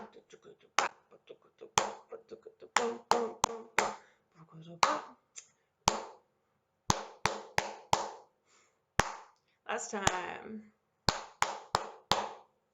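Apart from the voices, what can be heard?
rhythmic hand claps (palmas) for jongo rhythm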